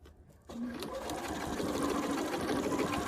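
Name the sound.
sewing machine stitching potholder binding through layers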